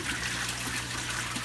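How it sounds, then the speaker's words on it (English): Water bubbles and trickles steadily in an aquaponics system with a venturi and a sieve filter, a close, continuous splashing stream with no pauses. "It's bubbling and doing its thing"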